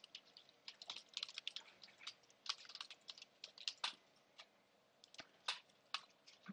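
Typing on a computer keyboard: quick, close clusters of light key clicks in uneven bursts with short gaps, fairly faint, with no talking.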